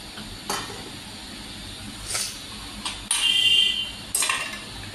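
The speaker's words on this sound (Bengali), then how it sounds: "তো আবার আমি থালাগুলো ধুচ্ছি, দেখো মেজে নিচ্ছি" Dishes being hand-washed and scrubbed in a home kitchen: scattered clinks of plates and utensils, brief scraping swipes and splashes over a low steady background hiss.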